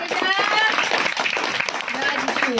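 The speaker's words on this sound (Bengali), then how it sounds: "হাততালি" Clapping at a gathering where blankets and food are handed out to underprivileged children, a busy patter of hands running beneath loud talking voices.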